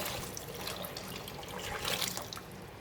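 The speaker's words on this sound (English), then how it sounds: "Just put them back in the pot again. I'm going to again put water" Water pouring from a tap into a pot of drained kidney beans, a close, continuous splashing rush with a brief louder surge near the end.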